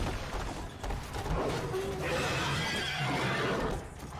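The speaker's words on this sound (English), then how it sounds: "A chicken race with a horse" Horse in the Devil May Cry 3 video game gives a loud, shrill whinny over rapid hoofbeats and clattering, in a brief, busy burst of game sound.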